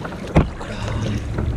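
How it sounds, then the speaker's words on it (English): A kayak is paddled on open water, with one sharp close splash of a paddle stroke over steady wind and water noise. "Okay, time to kayaking."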